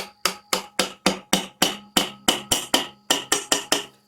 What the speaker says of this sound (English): Take the screwdriver behind it, tap it with a hammer.